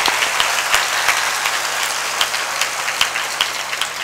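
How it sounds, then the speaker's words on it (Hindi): Audience of students applauds at a village intermediate college gathering, a dense steady patter of many hands clapping throughout with a few sharper claps standing out. "ताली बजा दो।"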